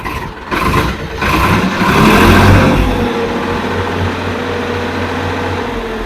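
A Ford 3600 tractor diesel engine cranking with a few sharp bursts, catching and revving up, then settling into a steady loud idle close by, with no talking.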